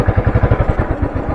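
A motorcycle ridden along a rough, unpaved jungle road in Jim Corbett, its engine throbbing in a quick steady pulse close by, with no talk.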